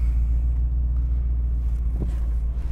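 Steady low engine rumble of a fancy convertible car as it is driven, a continuous close hum with a faint thump near the end and no talk.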